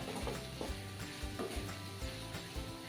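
A spoon stirs fresh coriander and grated wet coconut into a dry broccoli and potato stir-fry, giving a steady scraping and soft sizzle in the pan, close and moderately loud, with repeated stirring strokes and no talking.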